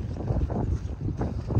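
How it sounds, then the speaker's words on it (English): Gusty wind buffeting the microphone outdoors at Remembrance Park in St. Marys, Georgia, in low, uneven rumbling bursts, loud and close, with no other clear sounds. "it is windy outside. It's very windy."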